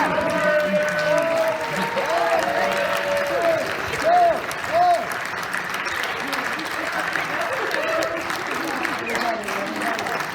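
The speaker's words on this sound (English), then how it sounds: "let's give a big round of applause to the seniors who've been working with us" An audience at a spring school theater event for one-act plays applauds the departing seniors, steady sustained clapping with voices mixed in beneath it.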